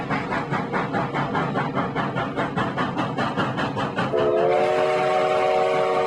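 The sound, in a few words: steam train with whistle on transcontinental railroad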